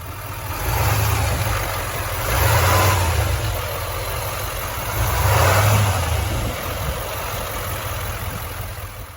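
A 2021 GMC Sierra 3500HD dual-rear-wheel pickup's 6.6L V8 diesel engine idling loudly up close, swelling twice in revs with a deep rumble before settling back.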